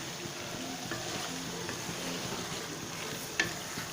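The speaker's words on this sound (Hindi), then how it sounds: "इसकी अब हम भुनाई करते हैं ताकि मसाले अच्छे से रच बच जाए इसमें" Mutton masala fries on a high flame in a Hyderabadi-style preparation, a steady low sizzle with soft stirring scrapes and one sharp clink of the spoon near the end.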